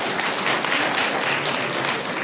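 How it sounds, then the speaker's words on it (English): Audience applause for a graduate at a youth empowerment graduation ceremony: steady, dense clapping from a large crowd, moderately loud and continuous throughout, with no voices standing out. "Please clap for Emmanuel."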